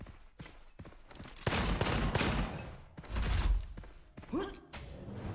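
Rapid bursts of gunfire from the shooter Gunfire Reborn, loud clusters of shots with thuds, mixed with game effects.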